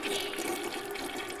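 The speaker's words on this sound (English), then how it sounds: "if there was a flushing sound there, thank you, Epidemic Sound" A toilet flush used as a sound effect, a loud rushing swirl of water that holds steady through the whole short burst with no voices over it.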